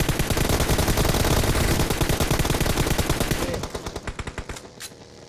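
Rapid automatic gunfire in the mobile battle-royale game PUBG Mobile rattles in a loud, sustained burst, then breaks into a few separate shots as it tapers off.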